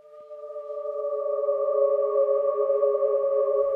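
A synthesized tone, layered and sustained, starts high and bends slowly downward in pitch with a whale-like quality, swelling from quiet to steady over a few seconds, with no talking.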